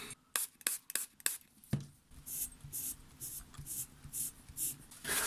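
Hand-wiping and rubbing on the tape transport flywheel of a Tascam 244 Portastudio during cleaning, close-up scratchy strokes and taps in quick irregular succession, then a steadier run of soft rhythmic friction swipes.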